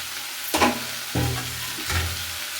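Fresh grated coconut and spices roasting in a pan, with three distinct stirring scrapes over a steady dry sizzle, close and fairly loud, with no talking.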